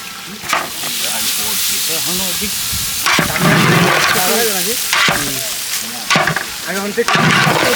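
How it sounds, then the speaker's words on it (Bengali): Rice frying in ghee in a large pot for a 25 kg batch of chicken biryani, with a loud, continuous sizzle and repeated scraping stirs, while voices talk over it. "হ্যাঁ চালটা দিয়ে দিলাম, চালটা আমরা ভাজিয়ে নেবো সুন্দর করি"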